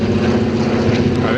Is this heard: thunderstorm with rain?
no